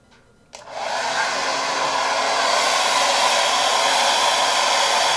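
Hair dryer switching on after a brief click and then blowing steadily, a loud close airy whoosh drying relaxed hair.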